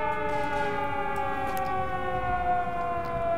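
Sirens wail continuously in the video game Secret World Legends, a loud, steady, layered drone of several sustained tones sounding together without a break.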